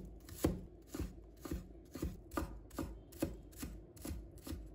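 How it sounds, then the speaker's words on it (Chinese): A knife chops scallion whites into small pieces on a cutting board in about ten steady, evenly spaced strokes, close but fairly quiet, with no voices. "再准备1把葱白， 将它切成小粒"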